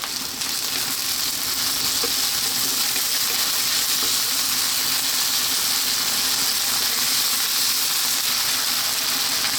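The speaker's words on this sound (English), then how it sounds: "We're now going to drop in that garlic ginger paste." Garlic ginger paste, a half-and-half mix, sizzles loudly in a pan over high heat, a dense, continuous hiss with no talk over it.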